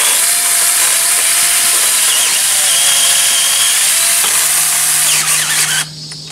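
A small electric chainsaw cuts tree branches in the garden of an old country house, giving a loud, steady, high-pitched whine that holds for most of the clip and then cuts off abruptly near the end.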